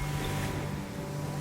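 Steady low wash of sea waves drawing back out toward open water, a soft continuous rumble and hiss with no distinct breaks, faint and even throughout.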